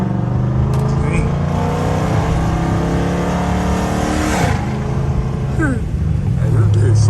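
Catless Dodge Charger SRT engine roars loudly and continuously while driving on a night highway, revs rising and dropping with gear shifts, heard from inside the cabin.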